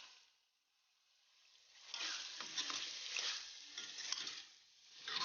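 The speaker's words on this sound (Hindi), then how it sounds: "अब हम ऑयल डाल के इसमें इसको अच्छी तरह से भून लेंगे।" Minced meat qeema fries in oil while being stirred, starting almost silent and then building into soft sizzling with scraping stir sounds in a pan, fairly faint and without talk.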